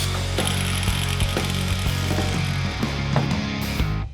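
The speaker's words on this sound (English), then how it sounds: "While Kurt uses a grinder with a cutoff blade to remove the spokes" An angle grinder fitted with a cutoff blade slices through the spokes of a wheel rim, giving a loud, steady whine with repeated short bursts of grinding and clatter as each spoke is cut.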